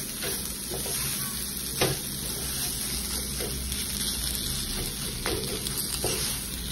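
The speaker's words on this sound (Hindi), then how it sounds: "फिर से बादाम को भूनेंगे इधर अच्छे से।" Almonds stirred and roasted in a pan over a low flame for almond halwa, giving a steady close sizzle with light scraping stir strokes throughout, no voices.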